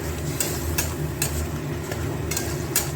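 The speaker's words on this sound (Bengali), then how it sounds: "এবার এগুলো একটু ভালো করে কষু, একবারে তেল ছেড়ে আসা পর্যন্ত" Masala spices fry in oil in a pan for a prawn malai curry, with a constant low sizzle and a few sharp, regularly spaced scraping stirs.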